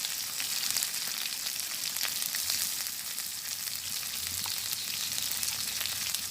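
Spices with salt and turmeric sizzle steadily in hot oil in a pan during village cooking, a loud, continuous crackling fry close by with no voices over it.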